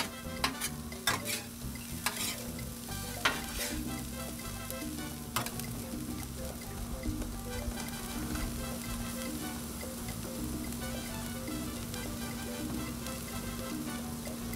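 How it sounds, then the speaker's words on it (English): Onions fry on a 22-inch Blackstone griddle, a steady close sizzle broken by sharp metal spatula scrapes and clacks as they are pushed into a pile, with no talking. "Get them back in a nice little pile, but not too piled up, so the onions are hitting the surface"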